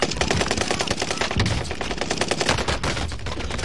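Video game gunfire as rubber bullets are shot, in rapid continuous volleys that are loud and dense throughout, with no talk over them.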